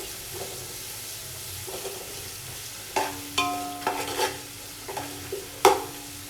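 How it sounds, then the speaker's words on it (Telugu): Garlic paste frying with leaves in a pan, a soft steady sizzle broken by several sharp stirring scrapes and clinks in the second half, close by with no talking. "గార్లిక్ పేస్ట్ యాడ్ చేసిన తర్వాత ఇవంతా కూడా పచ్చివాసన పోయేంత వరకు ఫ్రై చేసుకోవాలండి"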